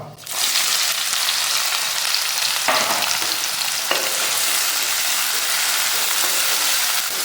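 Finely chopped onion hitting hot oil with dried red chili, giving a loud, steady, close sizzle that holds evenly throughout, with a couple of brief stirring scrapes and no talking.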